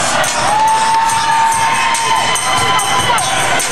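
A roller derby crowd at a night bout cheers loudly and continuously, with sustained shouting and whoops and a rising whistle-like yell mid-way.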